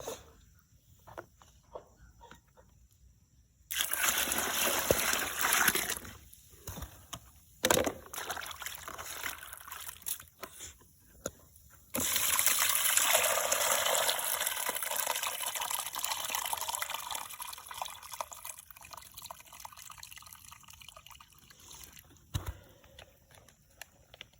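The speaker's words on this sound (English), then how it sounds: "If it's getting dry, you put more water like this." Water pours and trickles onto beans being washed in several bursts, steady splashing that stops and starts, fairly close with no voices.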